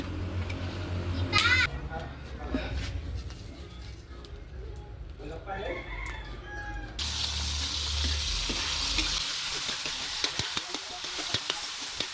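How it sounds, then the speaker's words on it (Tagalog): Food being sautéed in a home kitchen pan, a steady broadband sizzle that rises and fills the second half, with stirring clatter and nearby voices talking over it. "Ayan, ginisa na natin."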